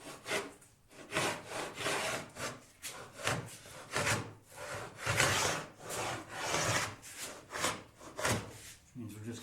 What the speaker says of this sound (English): Now we're getting the dust scraping